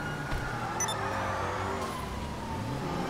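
A car pulls away, its engine revving and rising in pitch as it accelerates, a steady, moderately loud drone under a faint higher whine.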